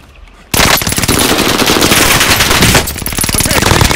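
Sustained automatic gunfire in Call of Duty: Warzone, dense rapid bursts starting abruptly after a brief quiet moment and continuing loud and close with only a short dip near the end.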